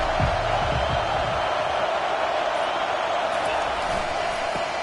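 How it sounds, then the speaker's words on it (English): Football stadium crowd giving the visiting team an ear-splitting welcome, a loud continuous roar of cheering that stays level throughout, with a few thumps near the start. "This crowd bringing an ear-splitting welcome to their visitors."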